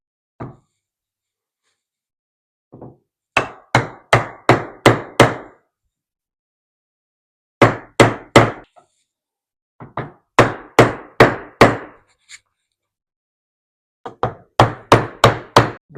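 A chisel is struck into wood with a mallet or hammer to fit a floating shelf, giving sharp, evenly spaced knocks in bursts of four to six, loud and close with silent pauses between.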